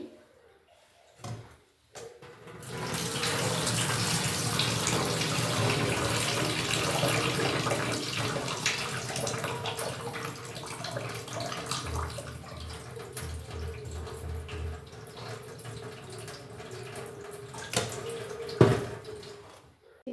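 Cold water runs steadily from a kitchen tap for pasta, a continuous broadband rush lasting well over a quarter minute after a few brief knocks, close and fairly loud with no talk.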